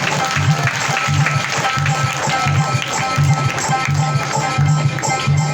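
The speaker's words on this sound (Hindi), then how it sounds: "एक बार साउंड वाले के लिए जोरदार तालियां बजा दो," Loud, continuous applause from a crowd, a dense wash of clapping with a steady rhythmic low thumping running underneath.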